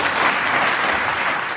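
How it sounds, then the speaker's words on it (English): Dense, sustained applause from a large audience honoring legislators behind the Recovery Act, a full steady roar of many hands with no gaps or individual claps standing out. "Give them a big round of applause."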